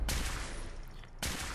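Two loud, sharp blasts from the Kiloton Rifle in Fallout 4's Far Harbor, one at the start and one near the end, with a rumbling decay between them.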